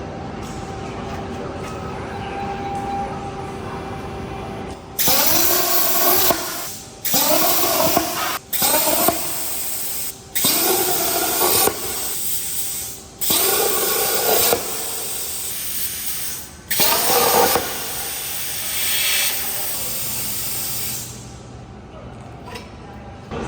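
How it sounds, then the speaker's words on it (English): A CNC plasma cutter slices steel trailer axle pieces in a workshop, giving repeated loud hissing bursts of a few seconds each with short pauses between, close by, with faint background hum and no talk. "So we use the CNC plasma cutter because it's a cleaner cut, a lot faster, saves time."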